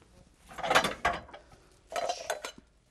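Metal cooking pot and utensils clatter in a kitchen as a pot is set up for soup, several clanking bursts with quiet gaps between them and no speech.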